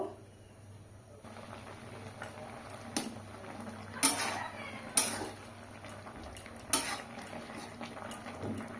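Potatoes simmering in a pot for a yardlong bean and potato curry, a faint bubbling hiss broken by several clear utensil knocks and scrapes against the pot.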